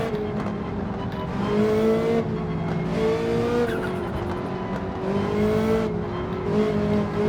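A Ferrari 458 Italia race car in a racing video game, its engine loud and close, rising and falling with upshifts and revs, with brief tire squeal and traffic on track.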